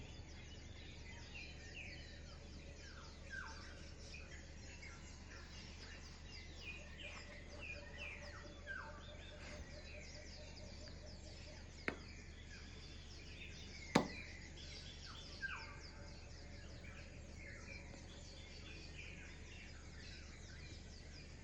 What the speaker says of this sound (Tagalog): Ganda lang yung tunog ng bird eh.